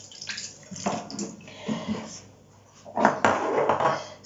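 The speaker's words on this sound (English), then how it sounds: "And wash my hands again." Hands being washed under a running tap in a home kitchen, a soft splashing water flow that swells and fades, with some quiet background noise.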